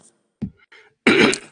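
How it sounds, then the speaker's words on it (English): A short, sharp cough from a man with a chronic cough, preceded by a couple of faint throat sounds, loud and close in otherwise quiet surroundings. "I've got a chronic cough, and it's really annoying"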